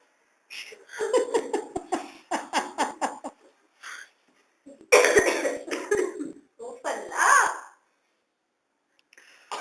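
Several bursts of coughing, some in quick clusters, from more than one person nearby, with breathy pauses between fits.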